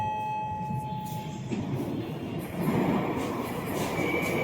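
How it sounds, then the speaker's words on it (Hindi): A Moscow metro train rumbles steadily nearby, its low roar swelling louder midway as it pulls into the station, with faint high tonal whines and a brief squeal. "अभी हमारी मेट्रो आ गई है, अब इसको हम पकड़ेंगे"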